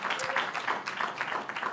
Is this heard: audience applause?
yes